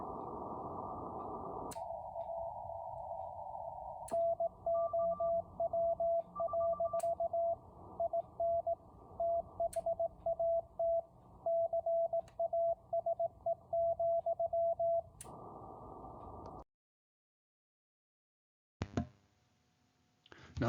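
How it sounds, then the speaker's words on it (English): Morse code bulletin from station W1AW received on shortwave radio at night, a steady tone keyed in rapid dots and dashes over band hiss, with tuning noise and static bursts breaking in near the end. "This is a Morse code bulletin transmission from"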